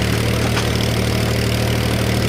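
Tractor engine pulling a trolley loaded heavier at the back, revved to about 1500 rpm, a loud close steady mechanical drone with a low throbbing pulse and no pauses.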